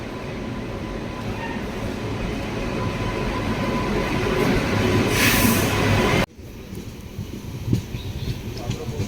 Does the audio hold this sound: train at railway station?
yes